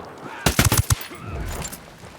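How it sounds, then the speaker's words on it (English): A flashbang grenade goes off in the Ghost Recon Wildlands video game, a quick cluster of four or five sharp loud bursts in under half a second, then a ringing, muffled tail of fading noise. "Throwing a flashbang."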